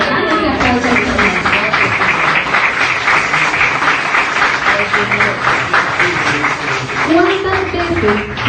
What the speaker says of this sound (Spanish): Dándole aplauso al Señor.